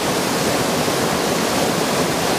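The El Calellu waterfall in Cabrales, Asturias, a loud, steady roar of falling water that fills the whole clip with constant broadband rushing and no other sounds.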